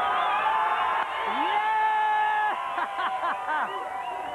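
A crowd at the Swansea Miss Oval 2001 event cheers loudly, with whoops and shouted yells rising and falling over a steady roar close to the microphone.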